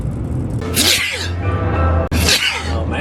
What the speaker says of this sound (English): a couple of good sneezes later